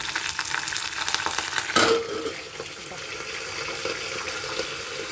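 Dried red chillies and curry leaves frying in hot oil: a loud crackling sizzle with a sharp burst of spluttering near the middle, then a quieter steady fry, close by.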